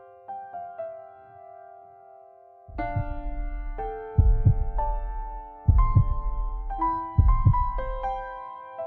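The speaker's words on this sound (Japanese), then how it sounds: "これは心臓の音。" A heartbeat during a story event in the Atelier Ryza video game: slow, deep, regular low thumps, loud and close, rising under sustained soft musical tones with no talking.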